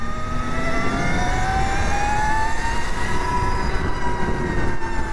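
Energica Ego electric motorcycle with a reduction gear, giving a steady high-pitched whine that slowly rises in pitch as it accelerates, loud and continuous over road rumble.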